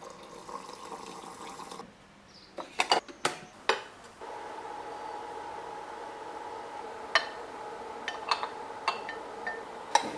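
Dishes and utensils clink sporadically in a kitchen, sharp clatters over a steady background hiss of running water.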